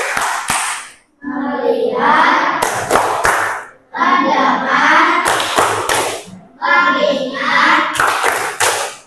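A group of children chant a 'tepuk fokus' focus routine in unison, punctuated by sharp, rhythmic bursts of hand claps between the spoken phrases, close and lively.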